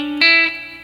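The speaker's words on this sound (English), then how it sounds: "And the last little notes here before the solo sound like this." A short guitar lick from a song, played on a B-bender electric guitar: one sustained note, then a brighter struck note that rings briefly and fades, heard alone.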